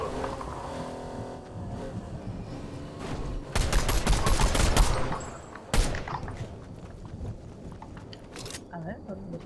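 A car drives in a Fortnite match, its engine rumbling beneath bursts of gunfire, with people talking over it.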